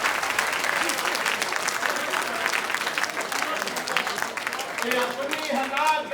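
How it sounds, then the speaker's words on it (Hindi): Hearty audience applause at a Hindi comedy poetry gathering (kavi sammelan), dense and steady clapping with murmuring voices and a few vocal calls surfacing toward the end. "तालियां बढ़िया"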